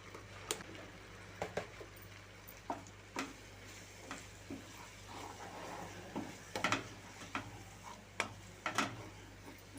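A spoon stirs chili powder into a simmering tomato and boiled egg curry in a pan, giving faint scraping and irregular clinks over a low sizzle, close and quiet with no talk.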